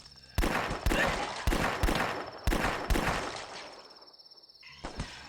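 Revolver shots in The Last Stand ring out one after another, five loud, evenly spaced cracks with short decaying tails, followed by a quieter pause and a faint final shot.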